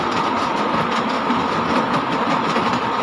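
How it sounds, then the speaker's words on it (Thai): A train rumbles steadily as heard from on board, with a loud, constant roar of wheels on rails and faint rhythmic clacking, and no talk. "ขี่รถไฟไปแล้ว"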